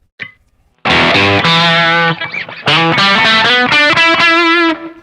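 Distorted electric guitar through a humbucker pickup playing chords and short riffs, loud and saturated, with a brief pause before a final sustained chord.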